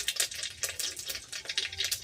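Whole spices and two bay leaves crackle in hot oil in a wok for a Bengali hilsa fish curry, a quiet, busy spatter of fine pops and sizzle running steadily throughout.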